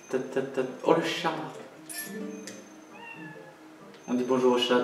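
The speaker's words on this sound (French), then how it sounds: "Oh le chat." A cat meows in a drawn-out, wavering call amid people talking, heard close and moderately loud in a Zelda Twilight Princess game.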